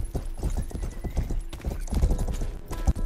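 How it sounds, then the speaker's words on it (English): Horse hooves clip-clop steadily and quickly in the video game Rustler, loud and close over a low rumble of game background noise. "This is the horse we have to steal."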